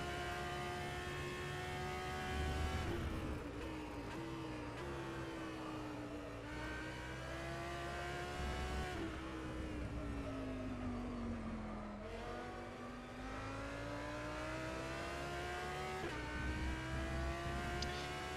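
An Audi R8 LMS GT3 race car laps Silverstone in rFactor 2, its engine droning steadily from the cockpit with the pitch rising through the gears and dipping on downshifts and braking, with no talk.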